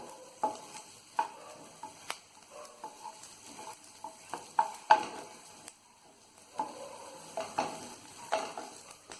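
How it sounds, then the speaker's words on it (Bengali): Ingredients for homemade tomato sauce fry in a pan, giving a steady low sizzle broken by frequent sharp clinks and scrapes of stirring, fairly close and moderately quiet, with no talking. "ভাজা ভাজা হচ্ছে"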